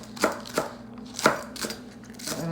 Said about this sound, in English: I'll just choppy these up.